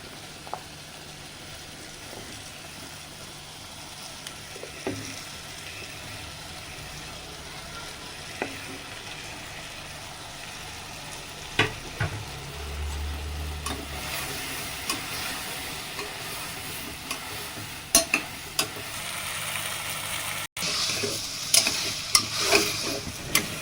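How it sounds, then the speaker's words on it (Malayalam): Vegetables tossed into a pan and stirred for pav bhaji, with scraping spoon clicks and a soft steady sizzle that grows busier toward the end, no voices. "ഇതിനകത്ത് എല്ലാ വെജിറ്റബിളും ഇനി ഇതിനകത്തോട്ട് ഇടാം."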